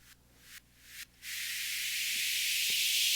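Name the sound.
steam release uplifter sound effect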